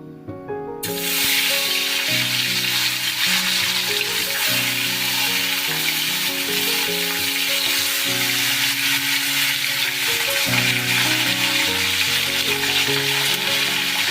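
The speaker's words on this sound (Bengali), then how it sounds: "তেলটা গরম হলে মাছগুলো ছাড়ব তেলটা আমার বেশ ধোঁয়া ওটা গরম হয়ে গেছে এবার মাছগুলো আমি আস্তে আস্তে ছেড়ে দেবো" Rupchanda fish slid into smoking-hot oil, a sudden loud sizzle that starts within the first second and holds as a dense, continuous hiss, with a low steady hum underneath and no talking.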